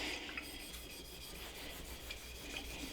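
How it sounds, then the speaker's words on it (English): Vinyl decal rubbed and pressed onto a bottle with a squeegee for a Cricut label, giving a steady close scraping rasp with faint repeated strokes over low background noise, no voices. "A little friction, a little extra pressing. You can use your squeegee here."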